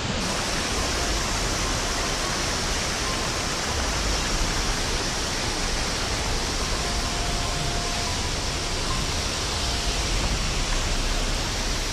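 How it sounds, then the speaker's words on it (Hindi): A roadside waterfall beside a mountain road in Mustang, Nepal, pours with a steady, broadband rushing roar, even and unbroken, with no voices heard. "तो ऐसे ऐसे झरने पड़ते हैं मुस्तांग के रोड पर"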